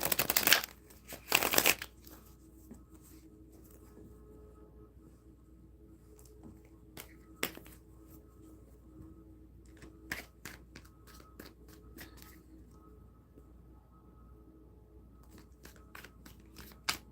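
Two brisk butterfly-shuffle riffles of playing cards at the start, followed by scattered soft clicks and taps of card handling in a quiet room.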